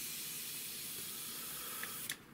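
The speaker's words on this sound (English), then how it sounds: "So first off, we'll try just straight spraying." Paint sprayer blasting thick Timbertech paint unthinned, a steady broadband hiss running nearly unbroken for about two seconds before a few short sputters as it cuts off.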